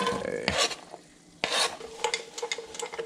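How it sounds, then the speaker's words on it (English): Onions and garlic sauté in a pan, a steady sizzle broken by clattering stirs of a utensil against the pan, close and lively with no talking. "gonna improvise and cook some onions first and garlic before I saute the butternut squash"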